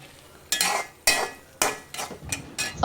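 Tomato curry with a pinch of asafoetida being stirred in a pan, heard as several sharp spoon scrapes and clinks against the pan at irregular intervals over a faint low sizzle.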